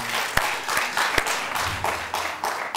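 A studio audience at a comedy game show claps in short, sharp rhythmic bursts of hand claps, loud and close, with no talk.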